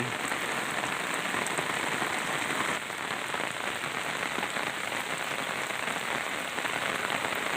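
Steady rain falling on a wet outdoor fishing spot, a dense, even hiss of drops on surfaces that stays loud and constant throughout.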